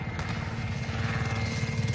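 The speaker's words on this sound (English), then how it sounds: "Oh, an helicopter." Helicopter in Call of Duty Warzone on the Verdansk 84 map, a steady dense rotor and engine roar with rapid thumping, loud and continuous throughout.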